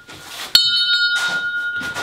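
A bell rings inside a house: one sharp, bright strike that leaves a clear, sustained metallic ring, with faint background talk and noise before and after it.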